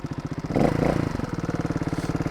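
A 4-stroke trials motorcycle idles close by with an even, quiet pulsing beat and a short blip of throttle early on.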